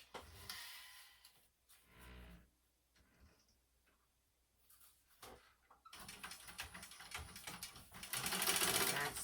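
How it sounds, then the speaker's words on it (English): A sewing machine stitches the sides of a fabric clutch bag. After quiet handling and light ticks, a steady mechanical whir starts and grows louder to the end. "And then I'm going to sew along the sides, bottom, and the other side at 1/8 inch."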